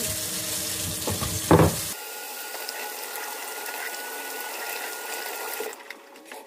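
A running kitchen tap with hands being washed under it, a steady broad rush of water with a brief splashing burst early on, continuing alone until it stops near the end.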